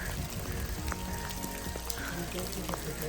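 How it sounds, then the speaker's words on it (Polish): Heavy rain falling steadily at Dorothea Quarry in Wales, a dense hiss with scattered drops and patters across the clip, close and loud, with faint voices briefly under it. "No pada jak nie wiem."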